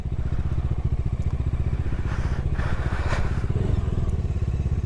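A small road motorcycle, not a dirt bike, rides off-road over rough ground, its engine chugging loud and close in a steady rapid pulse for the whole stretch, with faint clatter and no talking.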